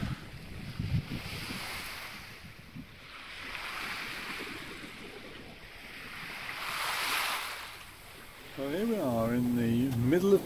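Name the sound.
sailing yacht motoring across waves into the Bay of Biscay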